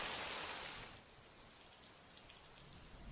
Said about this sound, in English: It's raining pretty hard today.